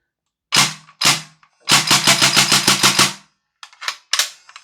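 A Northeast Mini UZI gas blowback airsoft gun fires on semi-auto, two sharp single shots, then a quick run of about nine rapid cracks, followed by a few more scattered shots, loud and close.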